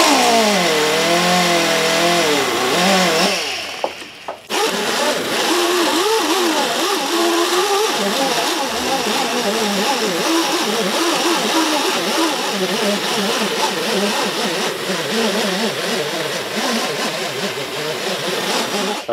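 A small three-inch rotary sanding disc dresses the frets on a Martin D-16 guitar neck, a loud steady whine that wavers in pitch as the tool loads and unloads, briefly cutting out early on before running continuously.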